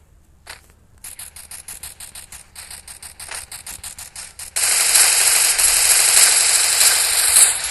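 Rapid gunfire in the Free Fire battle game starts as spaced shots, tightens into a fast steady burst, then gives way to a loud, dense wash of continuous fire.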